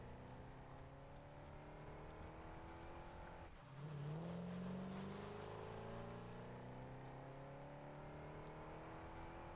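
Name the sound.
off-road vehicle driving in video game Satisfactory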